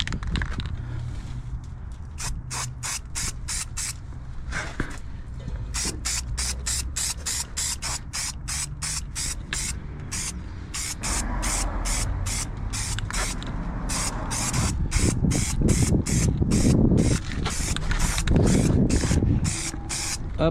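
Yellow paint is sprayed onto a Suzuki Alto Works HA22S in a series of short, sharp hissing bursts, then longer continuous passes, all close and fairly loud.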